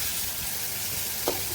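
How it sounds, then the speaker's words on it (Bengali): Pointed gourd (potol) fries in oil with a steady, dense sizzle throughout, broken near the end by one brief scrape. "পটলও ভাজি হয়ে গেছে, এগুলো উঠিয়ে নিব।"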